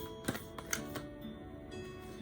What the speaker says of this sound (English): I'm going to try to shuffle one more time.